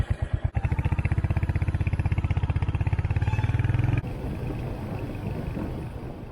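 Motorcycle on a ride in Himachal Pradesh, its engine thumping close in a fast even pulse for a few seconds, then giving way to steady rushing road and wind noise.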